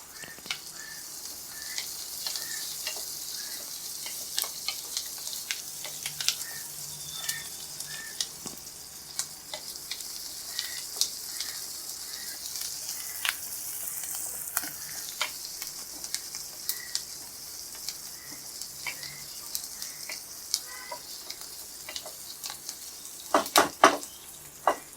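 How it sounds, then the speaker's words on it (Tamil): Onions and curry leaves sautéing in a pan for Tamil-style chicken gravy, a steady low sizzle and crackle with occasional stirring scrapes, close and moderately quiet, with a cluster of sharper clatters near the end and no talking. "இப்போ வெங்காயம் நல்லா வதங்கிடுச்சு."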